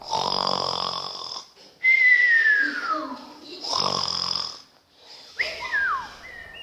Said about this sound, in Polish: I usłyszał głośne chrapanie